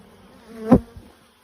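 Honey bees buzz during a hive inspection, one bee droning up close and swelling to a brief loud peak before fading, with no talking.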